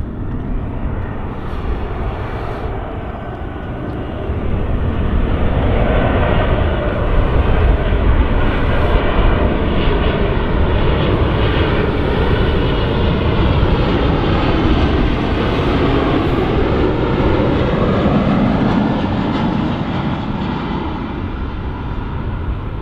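A KLM airliner at London City Airport during the Friday evening rush hour gives a steady, loud jet roar that swells and holds for over twenty seconds, close by and with no voices.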